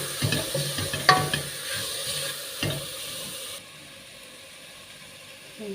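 Vegetable soup with carrots and potatoes being stirred in a pot, heard as close scraping and clinking strokes over a faint sizzle for about three seconds, then a quieter steady hiss, with no talk.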